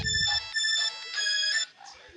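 Chiptune-style music from the Sonic 1 Tokyo Toy Show prototype video game, a bright synth melody of repeated tonal notes in short bursts, with the tune dropping away near the end.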